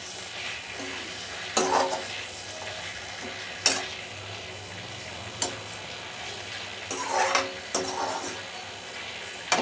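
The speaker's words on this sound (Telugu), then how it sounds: "ధనియాలు జీలకర్ర వెల్లుల్లి వేసేద్దాం ఇవి కూడా కొంచెం సేపు మగ్గనిద్దాము వేగనిచ్చేద్దాం" Coriander seeds, cumin and garlic frying in a pan while bottle gourd peel chutney is cooked, with a steady sizzle broken by several short stirring scrapes.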